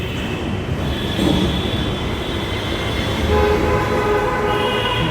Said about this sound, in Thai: มีรถไฟฟ้าด้วยสถานีเบงกอลเคมิคอน